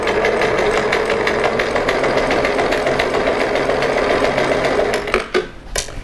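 An old Bernina sewing machine stitches a zigzag overcast seam on a scrub hat tie-back with a loud, rapid, even chatter for about five seconds, then slows and stops with a few clicks.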